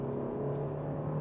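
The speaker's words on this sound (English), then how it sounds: "You can hear the engine" Kia XCeed GT Line engine revving hard under full-throttle acceleration, heard from inside as a steady whirring, rising drone held in gear, moderately loud with no talk.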